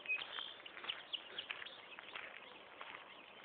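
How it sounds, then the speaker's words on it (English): Birds chirp and tweet faintly during an outdoor nature walk, with scattered high calls over a quiet background and a few soft footsteps. "Birds are all chirping"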